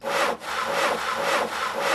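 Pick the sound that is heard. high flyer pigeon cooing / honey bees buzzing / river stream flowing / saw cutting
saw cutting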